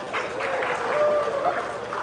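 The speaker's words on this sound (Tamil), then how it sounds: "கைத்தட்டு வராதது இப்ப வருது பாருங்க மாஸ்டர்" A crowd at a Tamil movie audio launch claps steadily in a brief burst of applause, with a faint tonal hum running underneath.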